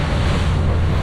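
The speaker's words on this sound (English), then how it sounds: "can't believe how quick this sea picks up" Rough sea surf and strong wind batter a small fishing boat off Cairns in heavy rain, a loud, continuous roar of wind noise and breaking waves with no talk.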